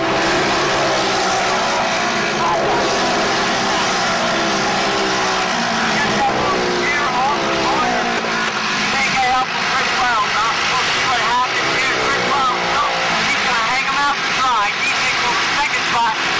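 Race cars on a dirt track at Mifflintown, Pennsylvania, their engines droning and whining continuously as they pass, heard under a race announcer's steady commentary.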